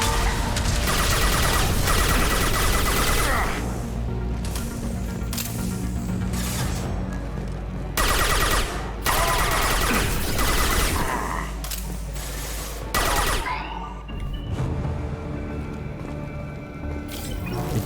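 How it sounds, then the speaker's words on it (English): Gunfire in the video game Mass Effect 2: dense, loud bursts of rapid shots and impacts come in waves over a heavy low rumble, with brief lulls between volleys. "I do hear some more gunfire."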